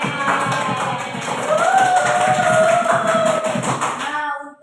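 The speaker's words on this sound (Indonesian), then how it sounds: "tepuk tangan buat Disney." A classroom of students claps for a classmate. The applause is a brief burst of close clapping mixed with young voices, and it stops abruptly.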